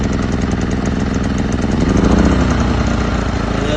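TACKLIFE portable inverter generator rated 2250 surge and 1800 running watts, running at a steady close, loud mechanical drone with an even engine rhythm and no pauses.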